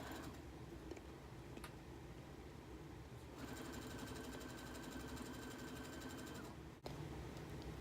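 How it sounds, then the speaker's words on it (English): A sewing machine stitches the side seams of a party dress with a steady, quiet mechanical whir. A faint higher tone comes in partway through, and light background hum runs underneath throughout. "I am going to sew the side seams together of the bottom half of the dress."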